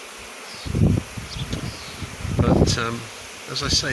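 A honey bee swarm arriving in a garden in Macclesfield, heard as a steady insect buzz with someone talking close over it in bursts.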